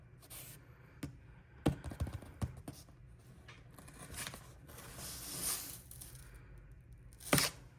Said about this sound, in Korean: 지금부터 개봉 들어가 보도록 할게요